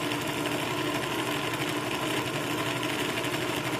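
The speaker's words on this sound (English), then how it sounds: "So now the bobbin is winding" A slow sewing machine winds its bobbin with a steady, even whir of motor and turning gears, close by and constant, with no one talking.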